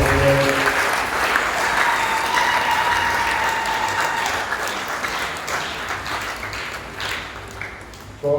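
A church congregation applauds during a Sunday Mass, sustained dense clapping filling the room and slowly thinning out toward the end, with faint voices mixed in.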